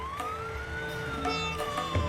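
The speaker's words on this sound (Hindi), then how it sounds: "शम होते ही पुलिस की गाड़ी गांव में आ पहुंची।" Police car siren arriving in a village at dusk: a wailing tone that rises and falls slowly over a steady engine rumble, moderately loud, with no voices.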